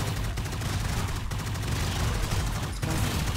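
Dense, continuous automatic gunfire from a machine gun turret in the tower-defense strategy game MarZ, a loud steady rattle with brief dips, no talk over it.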